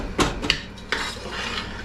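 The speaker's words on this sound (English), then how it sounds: "So we're just gonna mix them more onions in there." Onions are stirred in a pot for a wild pork and onion gravy dish, with a few sharp clinks of a utensil against the metal pot and a faint sizzle underneath.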